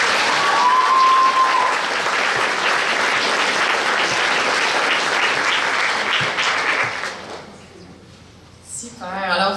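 Thick, loud applause from the audience at a regional science fair final in Chutes-de-la-Chaudière, Québec, rolls on for about seven seconds, then dies away as a voice begins speaking near the end.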